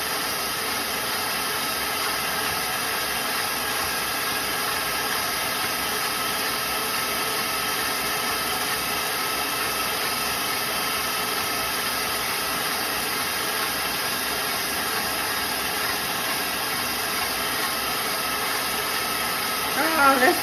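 An electric mixer whips three egg whites toward stiff white peaks for a lemon cream pie frosting, giving a steady, continuous whirring hum that holds at one level throughout and rises slightly at the very end.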